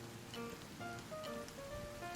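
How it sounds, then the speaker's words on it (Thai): Rain falls steadily in the survival video game Sons of the Forest, a soft, continuous patter that stays faint and even throughout, with no voices over it. "แต่กูว่าคงตากไม่ได้หรอกเนาะฝนตกแบบนี้"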